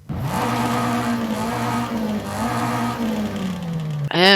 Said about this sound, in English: how about a race exhaust for the little inline 4?